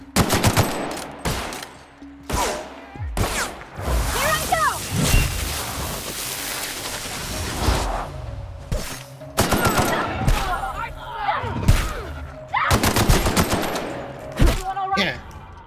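Rapid bursts of gunfire in The Outer Worlds: Spacer's Choice Edition, loud clustered volleys and single cracks spread across the span, with some talking in between.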